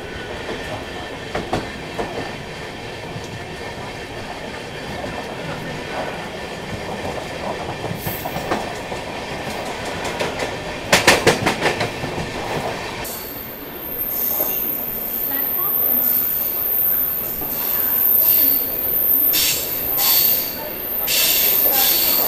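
An Amrit Bharat push-pull superfast express runs near Kasara, wheels squealing against the rails with steady rumbling and a rhythmic clatter that builds loudly toward the end.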